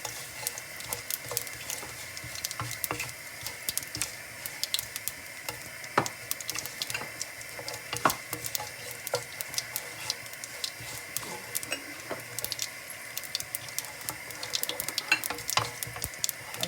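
Fennel seeds sizzle and crackle steadily in hot oil for a crab curry, a constant frying hiss scattered with sharp little pops and ticks, close and without any talk throughout.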